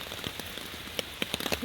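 Rain falls steadily on a forest campsite, a soft continuous patter of drops with a few sharper nearby splats toward the end, with no one talking.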